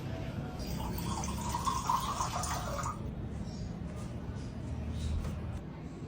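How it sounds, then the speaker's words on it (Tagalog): Water pours steadily into a glass for a drink, a continuous close trickle and splash that runs for several seconds and then eases into a softer flow. "Mabi, kuha mo nga ako ng tubig dyan."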